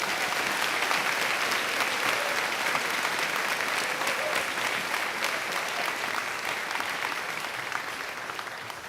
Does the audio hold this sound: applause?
yes